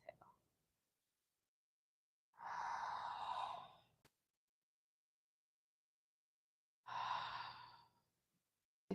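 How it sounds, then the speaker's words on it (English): Two long, slow breaths during a resistance band exercise class for dancers, each a soft, steady breathy rush lasting over a second, separated by quiet pauses. "And I'm taking 4 breaths, but feel free to choose your breath pattern"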